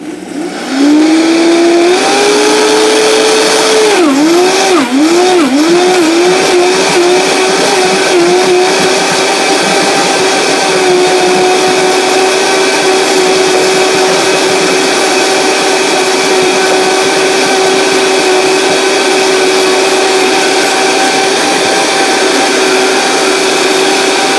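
A Vitamix blender grinding dehydrated kale into powder starts up and ramps to a loud, sustained grinding whine, its pitch wobbling early as contents churn, then holding steady at high speed.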